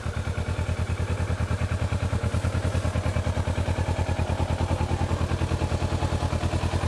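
A 2008 Kawasaki Versys KLE650 motorcycle engine runs steadily close by, a loud, even, rapid pulsing throb with mechanical clatter and no change in pace throughout.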